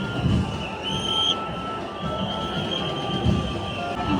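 Packed Mumbai local train rolling along during Lalbaugcha Raja visarjan, a steady rumbling rail roar with brief high metallic wheel squeals near the start, continuous and fairly loud with no talking.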